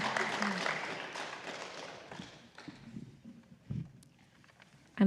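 A congregation at a Sunday church service applauds briefly, with clapping that starts fairly loud and fades within a few seconds into quiet room sounds and scattered taps.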